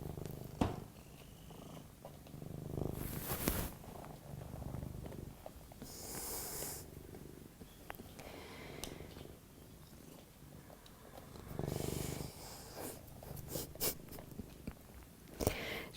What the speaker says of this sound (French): on a les doux et merveilleux ronronnements de Cahuète